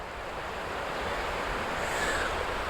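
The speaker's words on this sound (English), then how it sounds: "This perfect rhythmic sound of water moving over rocks." Steady rushing water over rocks, a continuous broadband wash that swells slightly louder toward the end, with no voices.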